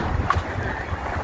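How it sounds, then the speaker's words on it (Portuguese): Strong wind blows outdoors beside a Shineray Citycoco electric scooter, a loud, steady rushing buffet against the microphone with uneven gusts and no clear talk. "ainda tá ventando forte"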